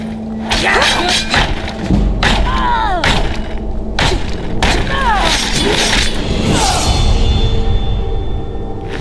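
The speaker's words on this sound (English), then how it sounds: "You basically hit this bandit with a barrage of attacks." Rapid melee strikes land on a bandit in the Skyrim video game, with a dual-wielding fighter sending repeated heavy thuds and clanks. Whooshes and sharp impacts mix with game voices and effects throughout.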